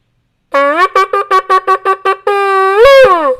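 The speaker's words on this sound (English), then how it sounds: "The third sound is called Teruah, and it has 9 little sounds like this." Nine quick staccato shofar notes, the Teruah call at a Yom Kippur service, in a steady rhythm, then a long sustained blast that bends upward near the end, loud and close.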